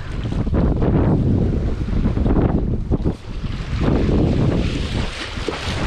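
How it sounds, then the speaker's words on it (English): Wind blows hard across open water while lure fishing from the shore, a loud, gusty roar against the microphone that dips briefly midway before surging again. "Very windy."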